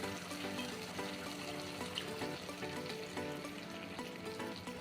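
A ground paste of cumin, ginger, chili and coriander powder frying in a pan for a rui fish curry, giving a loud, continuous, dense sizzle that stays steady throughout.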